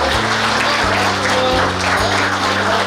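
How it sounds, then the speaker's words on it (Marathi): Audience applause fills a stage event, a dense, continuous clatter of many hands held at an even, loud level throughout, with a low steady tone running beneath it. "टाळ्या वाजवतच राहू द्या."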